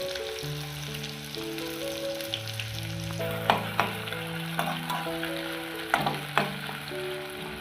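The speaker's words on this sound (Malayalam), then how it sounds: "ഒരു ചെറിയ സവാളയാണ് ഞാൻ ഫ്രൈ ചെയ്യുന്നത്" A small onion sizzles steadily in a hot pan over low to medium flame, with occasional louder pops and stirring, under a soft melodic music backing.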